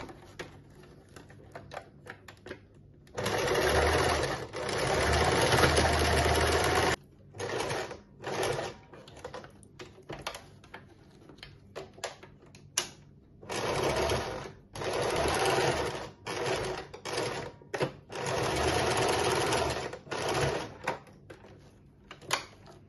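A sewing machine stitches fabric, sewing a cord spiral for a handmade interior decoration or gift. It whirs close up in repeated bursts of several seconds each, with short pauses between runs.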